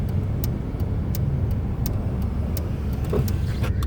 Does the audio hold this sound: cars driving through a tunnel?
yes